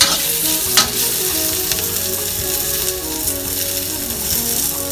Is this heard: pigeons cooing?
no